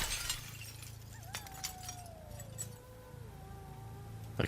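Window glass shatters in the survival video game Project Zomboid, a sharp crash followed by scattered tinkling shards and a ringing tone over steady background game ambience, heard at low volume with no talk.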